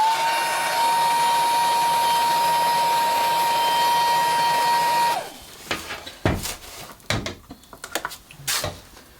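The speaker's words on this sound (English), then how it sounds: "I'm then going to push the heat gun back in there as well" Heat gun blowing on an epoxy fuselage patch, a loud steady whooshing whine for about five seconds that cuts off, followed by a few close handling knocks and clatters.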